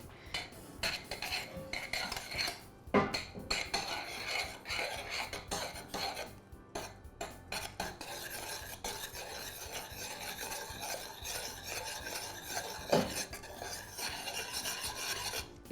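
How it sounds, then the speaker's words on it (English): Non-dairy cream cheese being stirred into a sauce in a pan, with steady scraping and rubbing of a utensil against the metal and a few sharper clinks, close and continuous with no talking. "I'm going to mix that in until it melts and the sauce is smooth."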